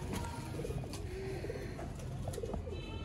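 Pigeon cooing, a shy female bird from a pigeon-keeping loft, low soft coos repeating through steady faint background noise, fairly close, with no talk.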